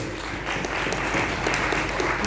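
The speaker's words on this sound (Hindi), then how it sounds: "एक बात ताली बजाइए रंजीत सर" Clapping from an audience at a business meeting in Delhi: a short, dense burst of applause, fairly loud and continuous throughout, with no voices over it.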